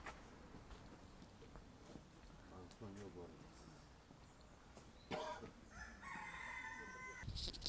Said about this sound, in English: We found the famous hen of Portugal here in the botanical gardens.